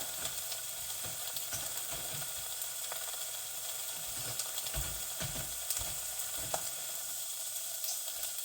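Blue oyster mushrooms frying in a pan over medium heat, a steady soft sizzle with scattered crackles and occasional light scrapes of stirring.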